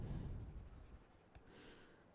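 Pen or chalk writing out a physics formula, a close, continuous scratchy rubbing with a few small taps, fading slightly toward the end, with no speech.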